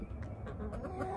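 Chickens clucking softly and pecking at a block of black soldier fly larvae, a close, busy cluster of short clucks and taps with no talk.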